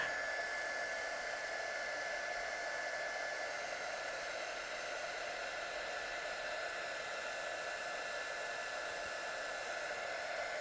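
A heat tool blows a steady, even whoosh of hot air over stamped paper, running continuously at a moderate level with no voices.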